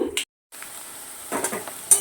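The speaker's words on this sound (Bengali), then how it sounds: "এখন পুঁই শাকটাকে একটু রান্না করে নেব।" Malabar spinach with potatoes fries in a pan, giving a faint sizzle with brief clinks and scrapes of stirring, broken by a short gap of silence.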